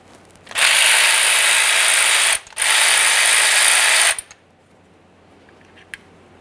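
Ratchet removing a bolt on a 2007-2013 Acura MDX engine during a timing belt and water pump job: two long, loud buzzing ratchet runs split by a short pause, then quiet with a faint click.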